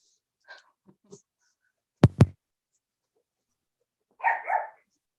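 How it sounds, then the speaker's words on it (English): A dog gives two sharp, loud barks close by, followed a moment later by a pair of softer, lower woofs, with faint murmurs and small noises before them in an otherwise quiet indoor room. "Pardon my dog."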